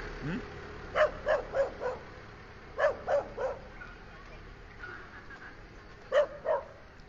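A dog barks in three quick bursts of about three to four barks each, moderately close, over a quiet background hum.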